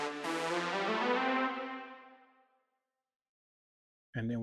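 A Logic ES2 synthesizer in a Kizomba, Kompa and Zouk production plays one bright, buzzy sustained chord that fades out over about two seconds, then falls silent before another sound starts abruptly.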